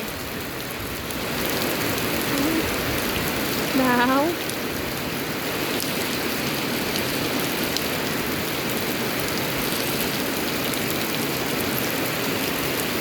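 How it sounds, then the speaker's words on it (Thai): Heavy rain pours down outdoors during a storm over a rice harvest, a loud constant hiss throughout, with a brief spoken word partway through. "ฝนตกอยากนักทุกคน"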